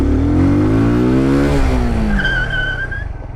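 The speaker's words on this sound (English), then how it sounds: "This bike doesn't have ABS, so I skid." A motorcycle without ABS brakes hard during a rider training course. The engine drone drops in pitch, then a brief, thin tire squeal rises near the end, loud and close with no speech.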